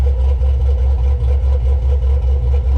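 A 1989 Chevrolet Caprice with an LS engine swap idles steadily, its low rumble pulsing evenly and close by with no talking.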